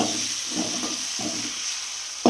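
Ginger garlic paste frying in hot oil until it browns, a steady broad sizzle with a few soft stirring knocks and a sharp clatter near the end.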